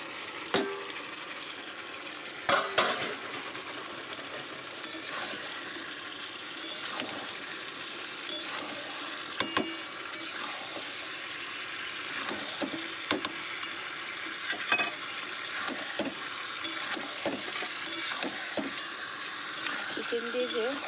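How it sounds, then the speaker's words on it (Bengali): Spiced masala sautéing with fried chicken and potatoes in a pan, a steady sizzle with scattered scraping stir strokes, fairly close, under some talk. "এর মধ্যে এবার ভেজে রাখা চিকেন আর আলুটা দিয়ে কষাবো"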